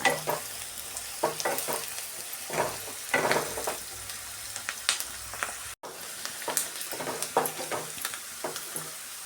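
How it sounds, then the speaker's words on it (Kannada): Food fries in plenty of oil for a coconut sambar, sizzling continuously while a spatula stirs and scrapes the pan in repeated strokes, close and clear, with one brief dropout midway. "ಬ್ರೌನ್ ಕಲರ್ ಆಗೋವರೆಗೂ ನಾವು ಫ್ರೈ ಮಾಡ್ಕೊಬೇಕು"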